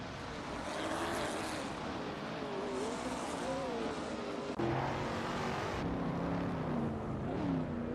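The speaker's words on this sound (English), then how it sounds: "Bot Girl of Diamond is piloting a 1969 Chevrolet Corvette d'État" A 1969 Chevrolet Corvette races in a video game. Its engine drones steadily at moderate distance, pitch rising and falling, with an abrupt shift in tone midway.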